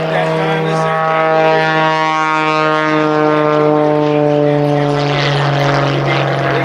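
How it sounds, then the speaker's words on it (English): An aerobatic airplane drones loudly and steadily at an airshow as it turns inbound for a low, slow photo pass. The engine tone holds strong and shifts slowly throughout. "get your cameras ready because Sean is about to turn inbound for his low-altitude, low-speed photo pass"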